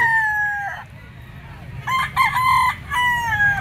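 A white kelso gamefowl rooster crows loud and close, one long call followed by two further crows, over a low background murmur.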